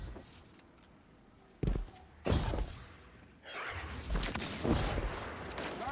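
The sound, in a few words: sniper gunfire in a video game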